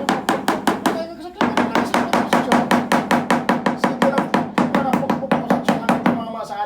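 Rubber mallet tapping ceramic floor tiles into place during construction, a fast steady series of about thirty sharp knocks, close and loud, with a brief pause after the first second.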